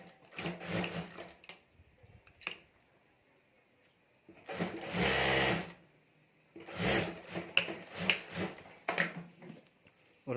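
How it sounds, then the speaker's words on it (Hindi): A sewing machine stitches the lining of a clutch bag in several separate bursts of varying length, with quiet pauses between them, close and fairly clear. "और यहाँ ऊपर हमें सिलाई कर देनी है"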